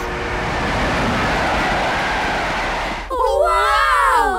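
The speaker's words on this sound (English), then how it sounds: "we have to get on the back of that train" A cartoon train rushes past with a loud, steady rumbling roar for about three seconds. The sound then gives way abruptly to shrill, sliding whistles and squeals.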